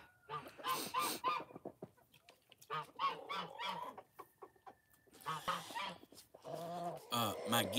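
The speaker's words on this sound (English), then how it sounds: "Some of my geese." Several domestic geese honk repeatedly at close range, in bursts of loud, nasal calls that overlap and trade off over a few seconds, with brief pauses between flurries and no talking.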